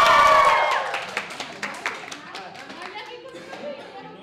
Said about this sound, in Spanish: fuerte el aplauso para la Caro